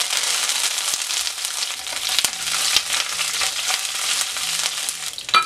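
Mustard seeds, urad dal and curry leaves sizzle and crackle steadily in hot oil, a close, continuous frying hiss with occasional pops and a stirring clatter near the end, no voices.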